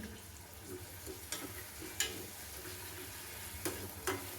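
Green chili paste fries in a pan with a steady, low sizzle, broken by a few light clicks and scrapes as it is stirred.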